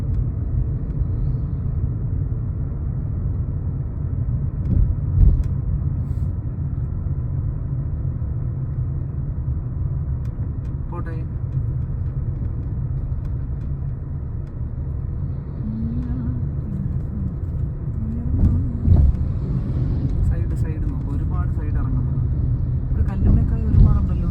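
A Mahindra XUV rolls downhill on light throttle, its engine and tyre rumble a low, even drone throughout, with faint occasional voices inside the car.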